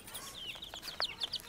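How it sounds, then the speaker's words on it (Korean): Colored baby chicks peeping at a rural village stop, a run of short high chirps, fairly near and moderately loud, with no talking. "우와, 색깔 병아리다."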